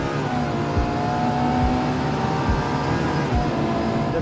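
Ferrari 812 Superfast V12 engine holds a steady, loud, rich drone at high revs with a few brief dips, near and with no talk over it.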